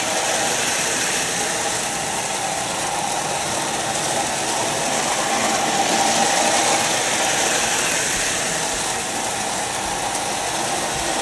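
A 1979 Lionel O-gauge model train runs steadily on its track pulling a diesel, a continuous close whirring motor hum with faint clattering wheels, even in loudness throughout with no pauses.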